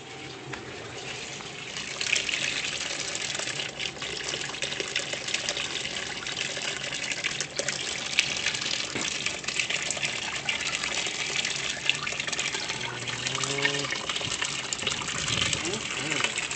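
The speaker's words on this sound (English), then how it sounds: "Bath time, Axel time." Water runs steadily into a tub for a ferret's bath, a loud continuous gushing wash that lasts throughout with no clear break.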